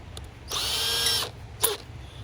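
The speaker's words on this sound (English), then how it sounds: "So I'm going to get a hole drilled" A short burst of drilling with a 7/16-inch bit into a metal fence, under a second long, whines at high pitch, followed by a brief squeak; otherwise quiet background hum.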